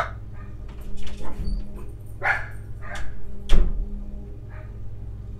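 A dog indoors near a garage gives several sharp barks with whimpers and yips between them, spaced irregularly over a low steady background hum.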